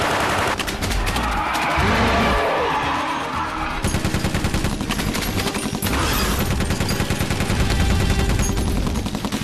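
Loud, sustained automatic gunfire fills an action movie battle, with rapid machine-gun bursts and heavy shots continuing almost without a break from start to finish.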